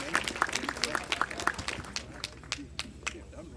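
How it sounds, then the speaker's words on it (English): Audience at a sheepdog finals trial clapping, a patter of scattered handclaps that thins out toward the end, heard at a moderate distance in an outdoor setting. "How about a nice round of applause from Amanda Milliken"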